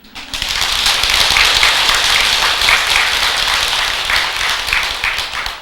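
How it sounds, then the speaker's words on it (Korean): An audience at a monk's Buddhist talk breaks into sustained applause, with dense, steady clapping close and loud for several seconds before it fades at the end. "박수 소리가 뭐 그래?"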